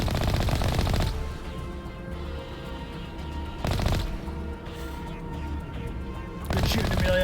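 Gunfire in the Mass Effect Legendary Edition video game, with loud sharp bursts at the start, near four seconds and again at the end, set against a continuous game soundscape.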